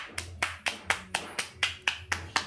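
Hands pat steadily around a knee during a therapy session for knee pain, about ten evenly spaced, crisp slaps in a regular rhythm, close and fairly quiet with no voices.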